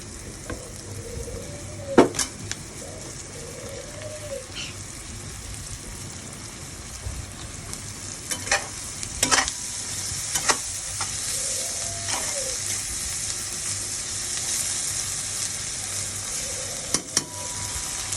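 Spices and tomato fry in a pan under a constant, close sizzle, broken by scattered scrapes and clinks as a spoon stirs them, with no one speaking.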